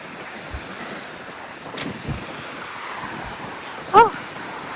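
Strong wind blowing outdoors around a tent, a steady loud rushing roar with buffeting against the microphone and one brief louder gust near the end, no talk.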